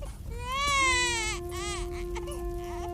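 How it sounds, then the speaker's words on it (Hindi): A baby cries in a Hindi cartoon story, a wailing, rising infant cry heard from a courtyard that carries on steadily through the clip and stands alone without talk. "बच्चे की रोने की आवाज तो मेरे आंगन से ही आ रही है।"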